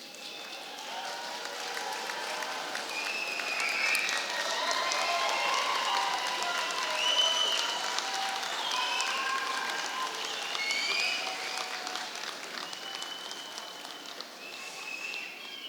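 Graduates at a degree ceremony in Poole send up a broad wash of cheering, whistling and applause toward their families, a sustained crowd roar of many voices and hands that holds steady throughout.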